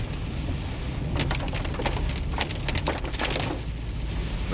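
Steady rain drums on a car while driving to work, a dense hiss mixed with scattered sharp drop impacts, constant and close with no talking.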